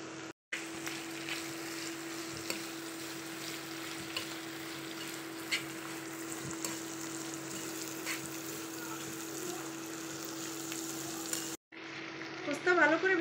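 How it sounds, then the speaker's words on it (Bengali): Bitter gourd frying in a pan with cumin, green chilli, turmeric and salt, a soft steady sizzle with occasional stirring scrapes, fairly quiet and broken by a brief gap, while a person speaks in the background. "উস্তা ভালো করে ভেজে নিতে হবে"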